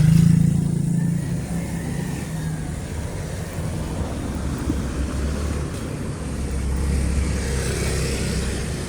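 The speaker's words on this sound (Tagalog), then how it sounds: "Ngayon labas-pasok na yung mga tricycle, mga single, mga delivery." Steady traffic on a busy road where tricycles and motorcycles keep passing, a continuous low engine rumble with no single vehicle standing out, moderately loud throughout.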